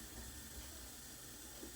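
Dal vada frying in hot oil gives a steady, faint hiss and bubbling sizzle that carries on evenly without pause.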